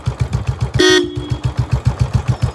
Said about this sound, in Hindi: हॉर्न बजाओ तो, हॉर्न बजाओ।